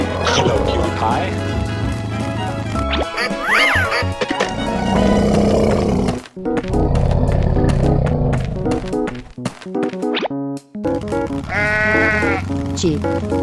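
Quavering sheep bleats ring out in an animal-guessing door game, mixed loudly with bright music and sound effects, with sudden silent gaps and a voice heard between sounds.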